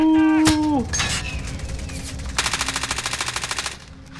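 Automatic gunfire in the Call of Duty Warzone battle royale, a sharp single shot followed by a sustained rapid burst of evenly spaced rounds, loud and close amid game effects, with no talk.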